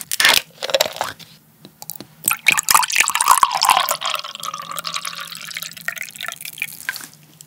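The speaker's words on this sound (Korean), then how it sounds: "음료수 먼저." A drink is poured before a meal of malatang, guobaorou and chili shrimp: close, crisp clicks and drips, then a fizzing, rising stream as the glass fills.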